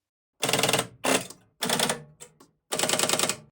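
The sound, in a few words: Strowger telephone selectors moving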